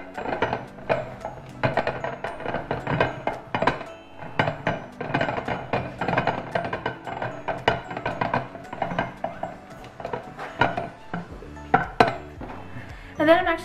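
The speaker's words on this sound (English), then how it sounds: "I'm actually going to take my spatula and kind of go around" Metal spatula scraping and clinking around the edges of a pan of birthday cake slime, repeated short scrapes and taps close up in a steady rhythm.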